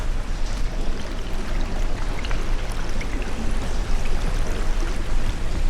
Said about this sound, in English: It just does take a moment for the water to rise.